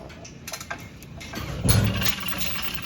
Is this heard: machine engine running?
yes